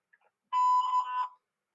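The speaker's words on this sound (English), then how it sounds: "Please leave your message after the beep." Voicemail beep on a government comment line: one short, clean electronic tone of about three-quarters of a second, sounding alone in silence, just before a message is left.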